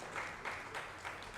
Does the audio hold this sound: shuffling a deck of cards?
no